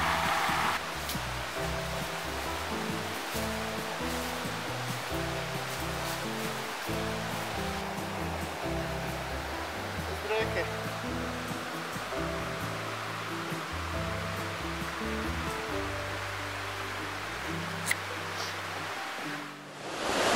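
A waterfall in the Quebrada Negra basin, which drains into the Aures River, gives a steady, dense roar of rushing water that holds at an even level throughout, with no voices over it.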